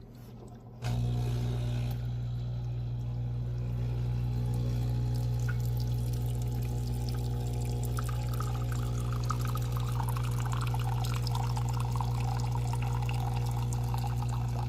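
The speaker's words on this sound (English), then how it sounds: "Here goes our hot water." Breville Oracle Jet espresso machine dispensing hot water: a steady, close mechanical hum with a continuous stream of water running from start to finish, no talk.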